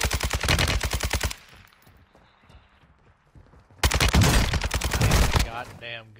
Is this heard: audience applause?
no